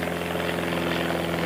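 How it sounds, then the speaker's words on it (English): A small Piper trainer aircraft from an aero club passes overhead near an airport, its propeller engine a steady, loud droning buzz with no talk. "It's an aircraft."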